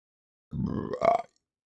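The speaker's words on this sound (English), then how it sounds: "Excuse me on the burps there." A single close burp, a low rumbling belch that ends in a short voiced rise, heard on its own in silence.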